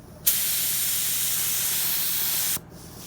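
A Harbor Freight Spectrum spray gun lets out one steady, loud hissing blast of paint lasting about two seconds, starting and stopping abruptly, with no talking.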